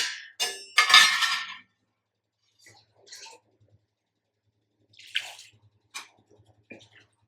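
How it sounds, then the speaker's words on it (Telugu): Water is poured over cut bitter gourd pieces seasoned with salt and turmeric, a short splashing rush up front followed by scattered faint drips and clinks. "వాటర్ పోసేస్తాం."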